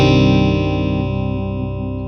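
An electric guitar in a clean tone through a Mesa Boogie amp model rings out one sustained chord that slowly decays with a faint wavering shimmer, loud and alone.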